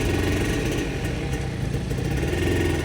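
A contest-built, fully modified Honda NSR 150 SP sport motorcycle runs steadily and loudly close by, its engine a constant rough drone with a slight clatter for the whole short stretch, with no talking.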